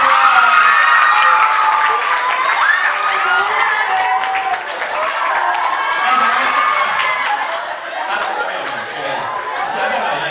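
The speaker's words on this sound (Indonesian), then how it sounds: "Tepuk tangan untuk" An audience at an education seminar on character building applauds loudly throughout, mixed with cheering and lively voices across the crowd.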